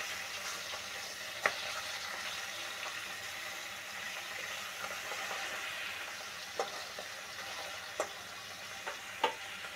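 Bacha fish frying under a lid in a covered pan, a steady soft sizzle with occasional sharp pops and crackles spread through it; no one talks.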